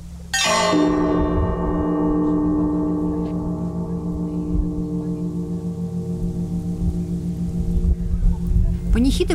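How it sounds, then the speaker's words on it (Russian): A church bell at the Assumption Cathedral in Yaroslavl tolls for a memorial service: one heavy strike rings out and hums slowly away over several seconds, then another strike lands near the end, with faint background murmur. "Под траурные звуки колокола ярославцы шли в храм на службу."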